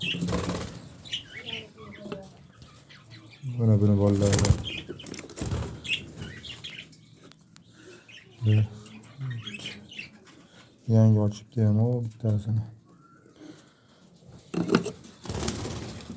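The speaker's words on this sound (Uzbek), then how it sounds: "Bizda mashq qushlar mana nemis qushlarimiz bor" German pigeons' wings flap in several sharp, close bursts among soft bird sounds, while a person talks intermittently throughout.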